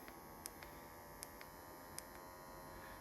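A microneedling pen hums steadily and faintly, a constant electric buzz like an electric toothbrush, with a few soft clicks over the drone; no one speaks.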